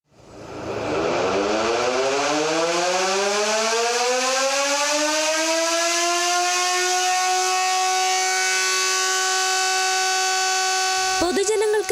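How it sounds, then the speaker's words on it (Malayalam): The Kodungallur municipality's electric siren, sounding its final call after being stopped by court order, winds up from a low growl into a loud, steady wail that holds for about ten seconds before cutting off. "അവസാന ചൂളം വിളിയോടെ കൊടുങ്ങല്ലൂർ നഗരസഭയിലെ സൈറൻ പ്രവർത്തനം നിർത്തി"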